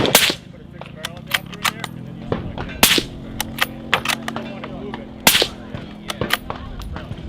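Rifle shots from a Remington 700 loaded with Nitro 30 at a firing range during the Texas Firearms Festival, several sharp cracks spaced irregularly, plus distant shots from other shooters and faint range chatter under a steady background hum.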